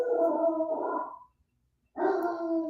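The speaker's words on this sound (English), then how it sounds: "There's a dog sounding the alarm that Luke's getting picked up" A dog gives long, howling alarm barks close by, one drawn-out cry, a short pause of silence, then another sustained howl.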